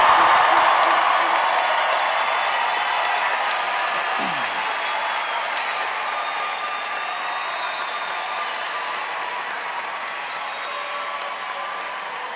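Graduation commencement audience applauds at length, a large crowd clapping loud at first and easing slightly into a steady wash of many hands, with faint cheering mixed in.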